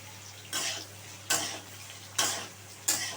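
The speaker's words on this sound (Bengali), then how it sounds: "ঝিঙেটা দিয়ে একটু নাড়তে থাকবো।" Ridge gourd stirred in a pan for a Bengali mung dal posto: four distinct spoon scrapes against the pan, spaced irregularly under a faint steady hum, close and fairly quiet.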